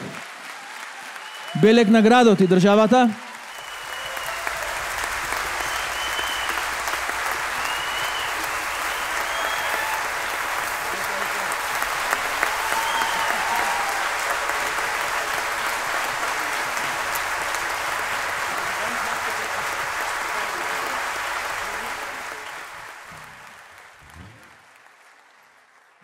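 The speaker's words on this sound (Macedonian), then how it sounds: "Еден голем аплауз за овој прекрасен оркестар" A concert audience at a live world music festival applauds an orchestra, a dense, sustained ovation lasting around twenty seconds after a brief spoken phrase, then fading out.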